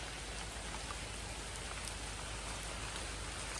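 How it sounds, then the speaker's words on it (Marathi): Rain falls steadily beneath a mango tree, a dense, even hiss of drops pattering on leaves and ground, faint and unbroken with no voices. "पाऊस पडतो आहे त्याच्यासाठी थांबलो आहे"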